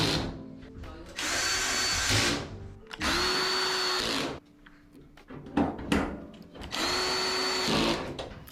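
A power drill whirs in three bursts, each spinning up and winding down as it drives screws into a clothes dryer during repair, with some clunking handling noises between runs.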